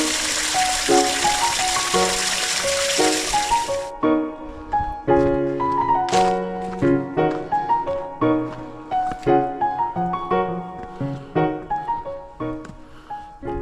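Water rushes in the Jeongneung valley stream in Bukhansan National Park, a steady gush under a gentle plucked melody for a few seconds, then the water drops away and the melody plays on alone.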